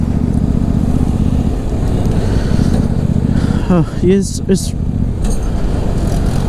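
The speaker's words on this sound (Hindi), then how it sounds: "जैसे जैसे मैं बाइक चला रहा हूँ" A motorcycle rides along a road with a steady, loud engine drone and road rumble; someone speaks briefly over it midway through.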